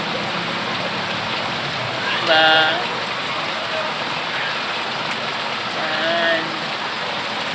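Heavy rain from Typhoon Ompong pours down outdoors as a steady, dense wash, while a voice speaks briefly twice over it.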